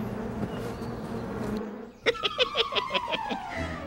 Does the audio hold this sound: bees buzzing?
yes